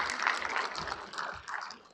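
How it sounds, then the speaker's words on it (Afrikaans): An audience at a gathering claps in fairly loud, uneven applause that swells and fades over a couple of seconds, with some voices mixed in. "Ja, vir hande klap, asseblief."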